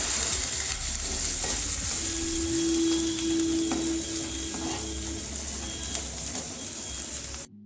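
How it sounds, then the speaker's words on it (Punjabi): Ginger and garlic fry in hot oil with toasted cumin in a pan, a loud, even sizzle running steadily throughout with a brief faint tone in the middle. "ਅਦਰਕ ਤੇ ਲਸਣ ਨੂੰ ਪਾ ਦਵਾਂਗੇ ਤਾਂ 2 ਮਿੰਟ ਵਾਸਤੇ ਭੁੰਨ ਕੇ ਤਿਆਰ ਕਰ ਲਵਾਂਗੇ"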